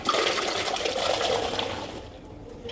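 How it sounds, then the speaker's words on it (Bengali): Cut raw mangoes are washed in pond water with steady sloshing and splashing, a continuous liquid wash that fades toward the end. "পুকুরের জলেই কিন্তু প্রথমে ধুয়ে নিচ্ছি"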